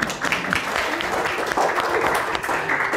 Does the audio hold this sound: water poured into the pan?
no